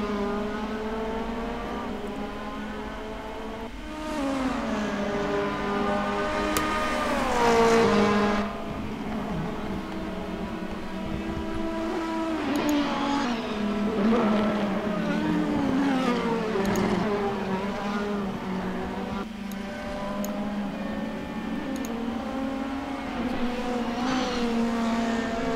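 Several race cars in a sim racing game circle the track, their high engine tones rising and falling as they accelerate and pass, steady and continuous at moderate loudness with a brief louder surge.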